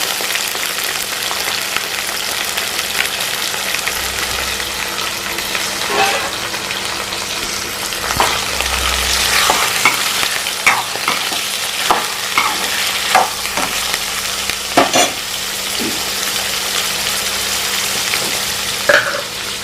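Goat heart and liver frying in oil with onions in a home kitchen, a continuous close sizzle broken by sharp clinks and scrapes of stirring, with a low hum underneath.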